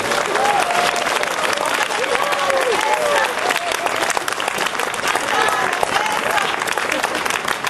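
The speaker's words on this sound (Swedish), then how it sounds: "En stor applåd för predikanten i det påvliga hushållet, Padre Raniero, Cantalamessa." Audience applause at a large Christian gathering as a papal household preacher is welcomed, a sustained, dense clapping over several seconds with some voices and cheers mixed in.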